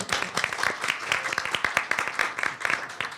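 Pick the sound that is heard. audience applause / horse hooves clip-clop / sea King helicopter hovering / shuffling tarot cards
audience applause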